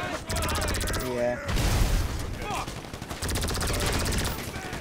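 Video game gunfire in a casino setting, dense bursts of rapid automatic shots and booming blasts, loud and near, with voices talking over the shooting.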